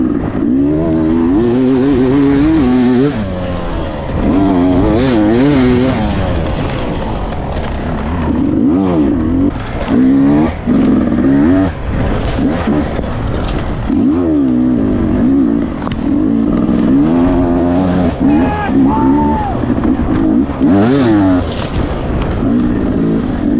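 Motorcycles racing in a rainy enduro on a 3-kilometre gravel pit track with deep sand, engines revving and whining loudly and continuously as bikes accelerate and pass, no talking.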